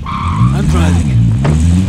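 A vehicle in Call of Duty Warzone drives with a loud engine roar while its tires squeal and skid, close and continuous, with a voice partly over it.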